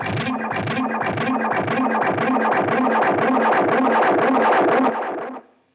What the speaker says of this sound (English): those repeats start feeding back over top of one another